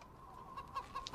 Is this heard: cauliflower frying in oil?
no